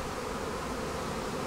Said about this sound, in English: boy, this hive is putting off a lot of racket